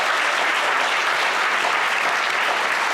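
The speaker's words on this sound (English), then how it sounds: "let's give a moment to give a round of applause to the 10 playwrights who were selected for this year's festival" A theatre audience at a ten-play short play festival gives a loud, full round of clapping, dense and sustained for a few seconds without any voices.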